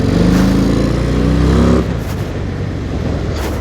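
A Harley-Davidson Fat Bob 114 motorcycle rides in third gear, its engine droning loud and close, then easing off partway through into a lower rumble of road and wind noise.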